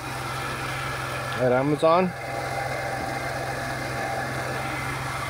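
A 1994 Geo Metro engine idles steadily while warming up, a constant low hum running through the whole stretch, with a brief burst of talking near the start.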